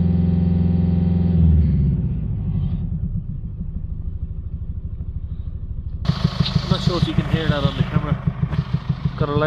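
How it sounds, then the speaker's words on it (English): A Mercedes Vito diesel van with an exhaust gas recirculation fault roars loudly as its revs are held, then drops to a deep idle before settling into a rhythmic, pulsing drone close by. "A loud noise coming from the engine."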